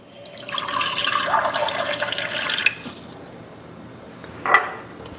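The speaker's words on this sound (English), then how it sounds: "We're going to put our tap water in this first one" Tap water pouring into a drinking glass, a close splashing trickle for about two seconds, then quiet, followed by a brief clink and splash near the end.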